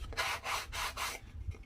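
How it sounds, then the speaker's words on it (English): Light sanding along the edges of a wooden wreath: three steady rubbing strokes, close and fairly quiet, followed by a brief softer scuff, with no talking. "just sand the edges"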